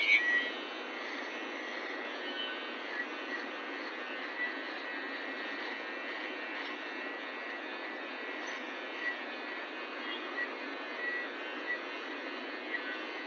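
An electric hair clipper buzzes continuously while tapering the back of a head during a haircut, a steady close motor hum with slight fluctuations as it moves, and no one speaking.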